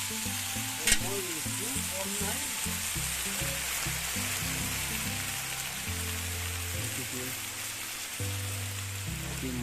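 Duck meat sizzles and crackles in a pan as it is fried and stirred, a dense continuous hiss with scraping stirs and a sharp knock near the start, close up.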